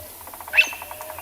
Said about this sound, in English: Can hear a bearded woodpecker going tick